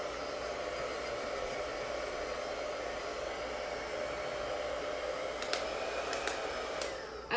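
A hair dryer blows steadily on chalk paste drying on a craft project, a constant close whoosh that carries on alone, with a few faint clicks and taps near the end.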